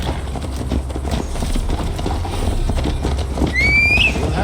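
Horse ridden at a gallop in Assassin's Creed Valhalla, hooves drumming in a quick steady rhythm close by, ending with a sharp whinny, no talking.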